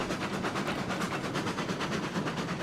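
A steam train runs along the tracks in the video game RailRoads Online, its rapid, rhythmic chuffing pulsing evenly and close throughout.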